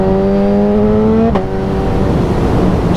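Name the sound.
motorcycle engine accelerating and shifting with quick shifter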